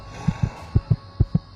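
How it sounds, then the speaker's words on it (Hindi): Fast heartbeat sound effect for a Hindi horror story, six soft, low thumps in three lub-dub pairs over a faint steady hum, close and even in rhythm. "हृदय का दिल तेजी से धड़क रहा था।"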